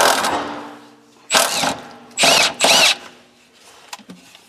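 A power tool, likely an impact driver or drill, removes the drive shaft bolts on a Volkswagen Herbie project car: three loud, close bursts of a second or less each, separated by quiet pauses.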